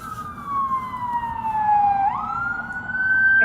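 An emergency vehicle siren on patrol, a loud nearby wail sliding slowly down in pitch, then jumping and rising again, over a low engine and road rumble, with no talking.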